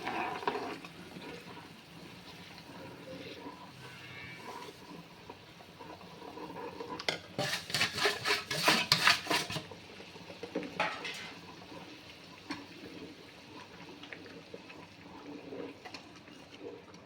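A spoon stirs semolina (rava) in a pot, scraping and clinking against the metal, with a brief flurry of louder clatter midway and soft kitchen noise throughout.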